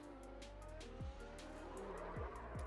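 An F1 car in the iRacing sim at Silverstone spins out, its engine droning steadily while repeated tire squeals sweep down in pitch, a few sharp skids in close succession.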